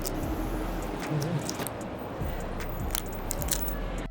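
Chewing of a dense, layered pastry bought at a Belgian supermarket: faint, wet, squishy mouth sounds with a few soft crunches at close range, against a steady background hum and no talk.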